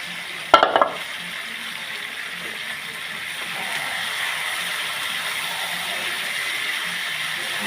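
Broiler chicken meat stir-fries in a pan, opening with a short burst of scraping and clatter from the spatula, then a steady soft sizzle that grows slightly louder.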